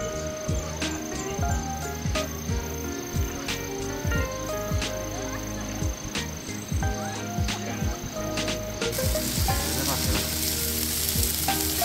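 Onion, egg and sausage fry in a pan with a steady, close sizzle and sharp crackles, while a shrill insect-like chirping runs through most of it and grows noisier near the end.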